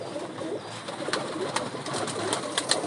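Pigeons of a prized breed kept by a fancier cooing softly and steadily, with faint rustles and brief sharper chirps rising over a constant background murmur.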